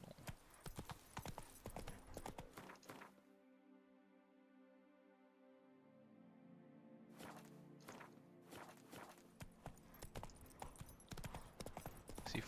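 Horse hooves clip-clop in steady rhythm through The Witcher 3 video game, loud and close, with a long sustained musical or ambient drone in the middle stretch before the hoofbeats resume.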